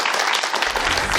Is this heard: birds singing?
no